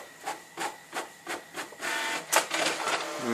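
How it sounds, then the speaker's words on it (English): An office printer runs through pages, its mechanism pulsing in about six regular strokes before settling into a steadier, busier whir with a sharp click midway, close and fairly loud, with no talking. "Look at that printer."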